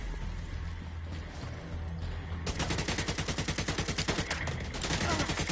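Gunfire in the video game The Division 2: after a couple of seconds of low rumbling background, a loud rapid burst of automatic fire rattles on steadily and close to the end.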